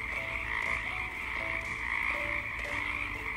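Frog croaking steadily and loudly throughout, a dense chorus of repeated calls layered over one another with no pauses and no talking.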